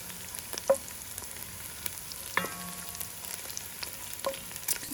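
Chopped onion and garlic frying in oil for an Italian ragu, a quiet, steady sizzle with scattered crackles and pops and a few brief stirring clinks.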